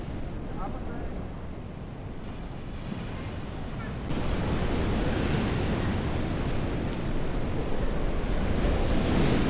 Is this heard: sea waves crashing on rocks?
yes